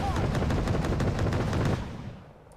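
Dense, rapid gunfire from units firing in the Wargame Red Dragon game, a loud sustained rattle of close shots that cuts off and fades to near quiet.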